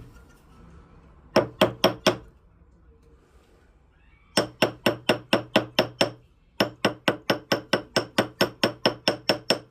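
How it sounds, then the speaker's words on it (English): A ball peen hammer strikes a metal jewelry ring in quick, evenly spaced blows: a short run of four, a pause, then two longer runs of about a dozen bright, ringing taps each, close and moderately quiet. "Now we need our ball peen hammer."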